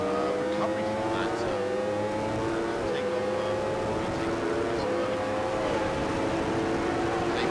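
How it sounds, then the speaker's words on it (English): Superbike engines roar past during a race, a loud continuous drone with rising and falling pitch shifts as the bikes power by, while a commentator talks over the noise. "We can hear the roar of the engines."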